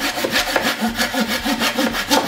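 A small Komelon US210 folding hand saw cuts through wood in a steady back-and-forth rhythm of about nine rasping strokes, close and clear with no talk.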